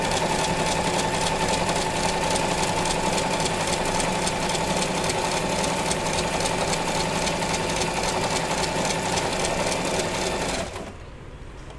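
A Singer Simple sewing machine runs steadily while stitching embroidery, its rapid mechanical chatter close and continuous for about ten seconds before it stops abruptly near the end.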